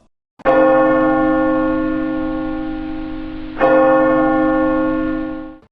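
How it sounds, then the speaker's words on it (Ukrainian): An alarm bell tolled as a radiation hazard warning signal: two loud, resonant strikes a few seconds apart, each ringing on and slowly fading, with no voices. "Сигнал радіаційної небезпеки. Дзвін у набат."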